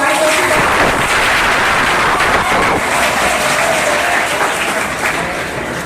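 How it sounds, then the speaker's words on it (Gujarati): An audience at a 15th August prize distribution gives loud, sustained applause, a dense wash of clapping from a large crowd that fades slightly at the end. "મિત્રો તાળીઓથી વધાવો।"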